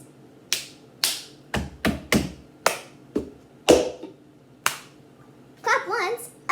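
Cup song routine with sharp hand claps and cup taps on a table, a rhythmic series of close, crisp hits spaced about half a second apart, ending with a brief burst of a voice.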